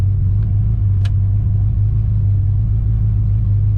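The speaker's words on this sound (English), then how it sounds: "Today we're driving a 1963 Chevrolet Impala in a nice metallic orange color." A 1963 Chevrolet Impala automatic drives along, a loud, steady low engine rumble heard from inside the car, constant throughout with a faint brief click.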